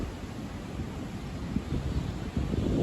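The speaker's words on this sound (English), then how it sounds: "Listen to those waves." Steady rushing wind fills the clip with a low rumbling surge of ocean waves underneath on the coast at Madalena do Mar, Madeira, growing slightly louder toward the end.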